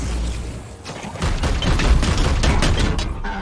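Gunfire in Warhammer 40,000: Chaos Gate Daemonhunters, a turn-based strategy game: a loud, rolling fusillade of overlapping shots and booming impacts that keeps on without a break.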